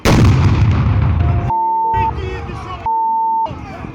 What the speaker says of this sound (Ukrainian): Одна з гранат вибухає біля Григорія.